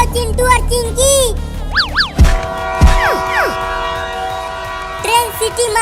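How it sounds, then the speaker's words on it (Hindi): A train horn blows in several loud, wavering blasts, with descending sweeps in between and other sounds around them, and voices are heard briefly. "ट्रेन सीटी मार रही है।"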